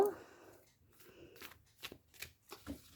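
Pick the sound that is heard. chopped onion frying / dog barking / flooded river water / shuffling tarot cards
shuffling tarot cards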